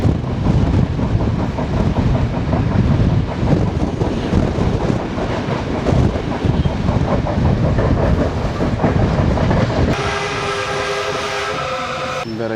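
A passenger train on the Vavuniya–Jaffna line in Sri Lanka rumbles loudly and steadily with rattling wheels and carriage noise, and near the end a long sustained horn blast sounds over the running train.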